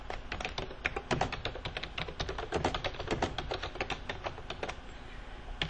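Rapid, uneven clicking of a computer keyboard fills the stretch as notes are typed into an accounts-payable vendor record, close and fairly quiet, with short bursts and brief pauses and no voice.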